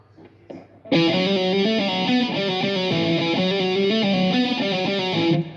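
Distorted electric guitar playing an intro riff, a loud sustained run of picked notes in a steady repeating pattern that starts abruptly after a few quiet taps and rings out to a sudden stop.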